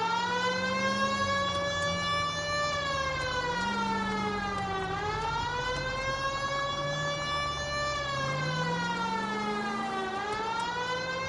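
A police car siren in the L.A. Noire video game wails in long rising and falling sweeps, loud and steady throughout, with no talking over it.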